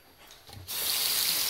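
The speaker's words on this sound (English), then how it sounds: "this right sink in the master bathroom has low water pressure" A master bathroom sink faucet with low water pressure opens partway through and runs as a steady, close hiss of water, with no voices.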